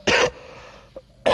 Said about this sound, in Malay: Batuk beradu ni